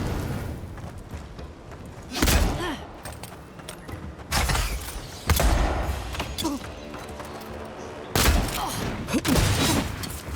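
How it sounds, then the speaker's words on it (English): Electric gun shots from a weapon in Avowed, sharp crackling bursts striking in roughly four clusters spaced a couple of seconds apart, each with a fizzing tail over a quieter background. "Your gun shoots actual electricity"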